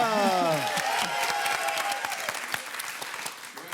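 Studio audience applause on a French TV dating show, a dense steady clatter of clapping that fills the room and slowly thins toward the end, with a voice speaking briefly over the start.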